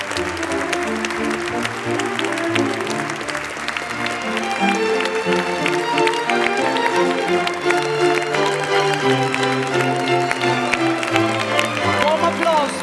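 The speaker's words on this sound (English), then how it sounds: "Warm applause for the last 6 winners of our awards in the category Conservation." An audience at the European Heritage Awards ceremony applauds a group of conservation winners. Sustained clapping rolls on under music and a speaking voice, growing fuller partway through.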